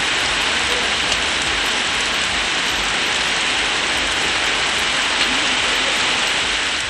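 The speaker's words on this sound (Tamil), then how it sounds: "திண்டுக்கல் மாவட்டம் நத்தம் சுற்றுவட்டாரத்தில் கனமழை வெளுத்து வாங்கியது." Heavy rain pours in a dense, loud, unbroken hiss around Natham in Dindigul district, Tamil Nadu, with no other sounds breaking through.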